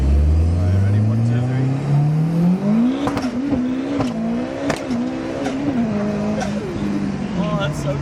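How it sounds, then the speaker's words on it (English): A 1100HP BMW drift car's engine revs up loudly and steadily, its note climbing and then wavering at high revs with turbo whoosh and sharp crackles layered over it, close to the listener. "It's like all the turbo noise."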